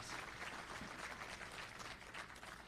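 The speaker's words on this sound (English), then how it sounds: "That's worthy of applause." Faint, distant applause from a business summit audience, a soft continuous patter of many hands under steady room noise.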